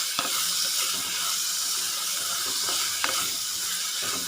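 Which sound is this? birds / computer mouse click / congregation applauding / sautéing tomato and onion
sautéing tomato and onion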